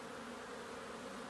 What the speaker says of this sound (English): it looks like there's bees on them